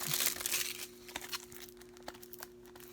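Packaging of the Katamari Damacy Reroll game being unwrapped by hand: a loud crinkle and tear of plastic film at first, then scattered softer crackles and rustles close by, with no talking.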